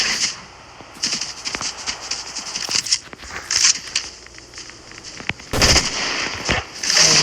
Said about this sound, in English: I just shoot for random reasons